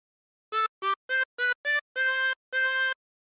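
Tremolo harmonica with 24 holes playing a short melodic phrase from Yankee Doodle: five quick detached notes followed by two longer held notes, bright and reedy, played alone with no talking.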